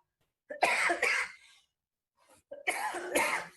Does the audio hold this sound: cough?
yes